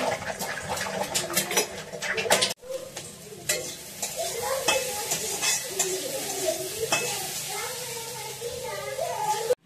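Eggs frying and being stirred in a home kitchen pan for an egg bhujia, a steady close sizzle with scraping spatula strokes and occasional clinks throughout.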